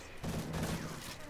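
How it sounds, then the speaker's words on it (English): Gunfire in Call of Duty: Modern Warfare 3, a dense rattle of shots packed into a short burst under a steady low rumble, fairly loud and close, with no voices over it. "What the fuck are they shooting at?"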